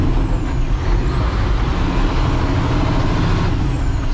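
A Peterbilt dump truck labors uphill, its diesel engine roaring loud and steady throughout, with air-brake hiss mixed into the continuous drone.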